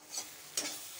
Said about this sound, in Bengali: তার সঙ্গে আমি মিশিয়ে নিচ্ছি।